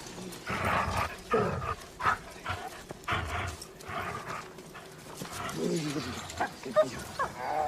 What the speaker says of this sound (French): C'est un chien d'attaque, monsieur?